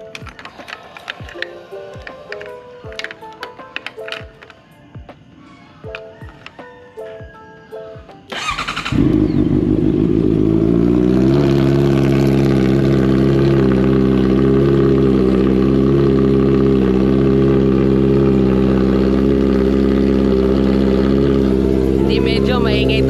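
Motorcycle engine starting, with clicking and tapping first, then a sudden loud ignition that settles into a steady, close idle with slight revving.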